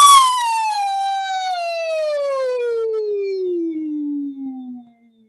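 A single voice imitates a siren, one long smooth glide from a high pitch sweeping steadily down to a low one, clear and alone.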